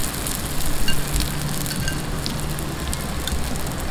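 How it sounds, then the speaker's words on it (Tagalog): Bean-sprout vegetable spring rolls (lumpiang togue) fry in hot oil, with a steady close sizzle and crackle that runs throughout with no one speaking. "Okay, magprito na po tayo."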